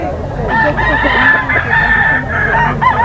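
A 14-month-old bull stag, a young breeder rooster offered for sale, crows loud and close several times in a row, with soft clucking and faint farmyard noise around it.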